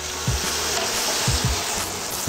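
Butternut squash ravioli fry in a pan until crisp and browned: a continuous, fairly loud hiss with soft low thumps now and then.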